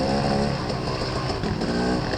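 A dirt bike engine drones steadily and loudly up close during a hare scramble race, with a continuous buzzing note that wavers slightly with the throttle and no talking.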